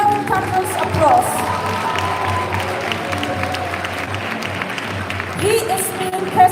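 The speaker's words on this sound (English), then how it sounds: "Let's give him a well-deserved thunderous applause." Audience at a school annual prize day applauds a student, sustained clapping mixed with cheering and crowd noise, with some children's shouts and voices in the hall.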